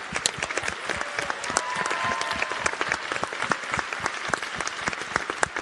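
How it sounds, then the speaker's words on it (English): An audience at a youth event on fighting HIV applauds, with many hands clapping densely and steadily for several seconds. A voice faintly speaks underneath. "Big round of applause."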